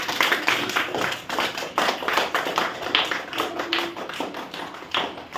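Children in a classroom clap their hands together, a steady burst of many crisp, close claps with a short pause midway and little talk.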